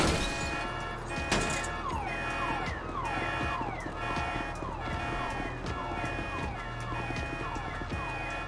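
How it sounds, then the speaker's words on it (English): A car alarm goes off in a video game, its wailing tone repeating in steady cycles under a busy game background, with a crash near the start. "Trying to set off car alarms"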